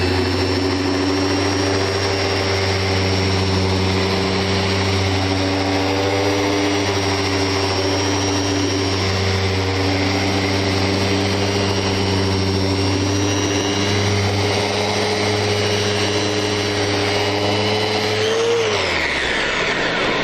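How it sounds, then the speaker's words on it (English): A Festool sander works across a wooden piece with a loud, continuous motor whir and hum that holds steady, then winds down abruptly near the end. "you want to continue and do proper sanding to make sure your piece looks the best it can"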